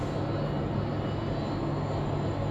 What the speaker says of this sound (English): This is an A330 just touching down here on runway 34 left.